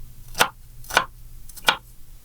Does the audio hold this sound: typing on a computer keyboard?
no